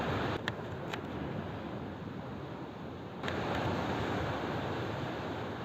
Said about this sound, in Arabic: دابا راه البحر هادي يبدا يخوت